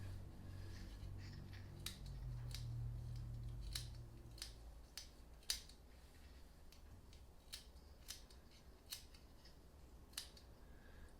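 Crisp scissor snips sound one after another at an uneven, unhurried pace, close by, over a low background rumble that fades partway through.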